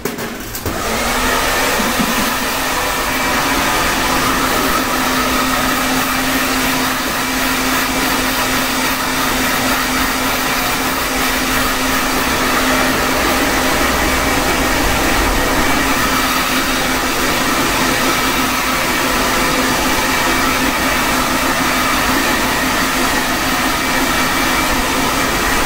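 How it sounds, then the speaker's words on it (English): A hair dryer blows continuously at close range while drying hair, giving a loud, steady, unbroken roar with a faint whine that barely changes for about twenty-five seconds. "let's just do the finger ruffle blow dry"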